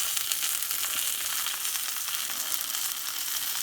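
A sirloin steak sizzles in a hot pan, making a steady, loud, bright hiss and crackle that continues unbroken at close range without any voices.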